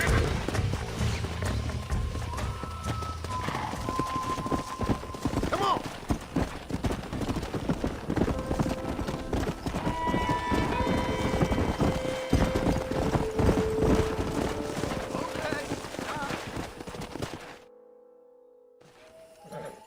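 Horse hooves clip-clop steadily in the Red Dead Redemption video game, a continuous rhythmic clatter of several horses moving under game music and ambience until it cuts off near the end.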